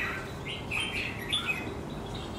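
A red-whiskered bulbul in moult gives a few short bright chirps, faint and at a slight distance over a steady background hiss, with no talking.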